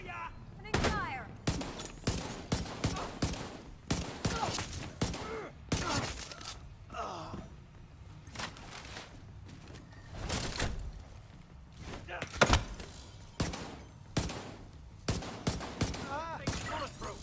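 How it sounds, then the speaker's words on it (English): Gunfire in the video game The Division 2 comes as many sharp, loud shots in bursts, spread through the passage, mixed with other game sounds and some talk. "Opening fire."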